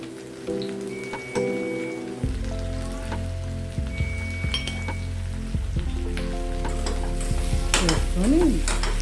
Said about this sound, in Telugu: వేసుకొని దీన్ని బాగా కలుపుకోవాలి.